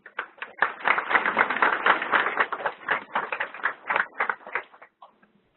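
An audience at an annual meeting applauds with a burst of dense, close handclapping that rises quickly, holds for several seconds, then thins into a few scattered claps before stopping.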